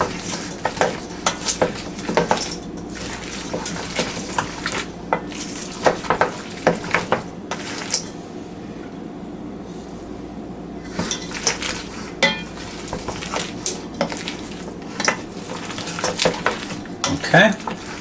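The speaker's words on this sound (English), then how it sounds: "We'll gently mix that in." Potato salad with scallions being gently mixed in a bowl, a close series of irregular scraping, clinking and stirring sounds with short pauses between strokes.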